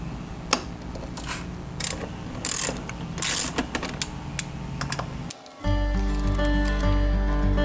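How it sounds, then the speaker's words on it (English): A ratchet with a 14mm socket removes the brake caliper bolts on a Triumph Trophy SE motorcycle. It makes close, uneven clicking and clattering, then a steady mechanical whir takes over near the end. "you use the 14mm socket to remove 2 bolts"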